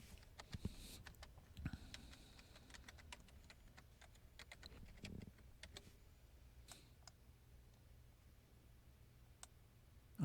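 A password is typed on a computer keyboard as soft, scattered key clicks at close range, quiet and irregular, thinning out toward the end before a sudden louder bump.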